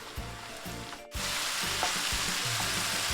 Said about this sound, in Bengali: সয়া সসটা দিয়ে দিচ্ছি। আঁচটা একটু বাড়িয়ে নিচ্ছি।